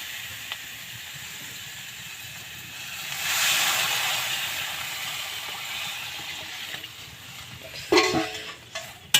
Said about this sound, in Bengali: এবার আমি ভালো করে ফুটিয়ে নেব